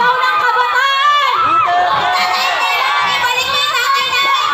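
Young people at a political rally shout together in a loud, sustained wall of overlapping voices, with rising and falling cheers throughout.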